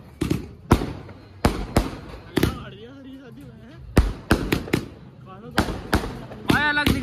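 Fireworks and firecrackers bursting at a wedding celebration, a series of sharp booming bangs at irregular intervals, some in quick clusters, loud and close, with people talking and cheering between the blasts.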